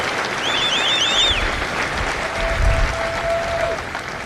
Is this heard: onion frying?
no